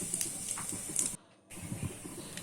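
Nigella seeds hit hot oil and sizzle, a steady close spitting hiss that cuts out briefly for a moment and then resumes.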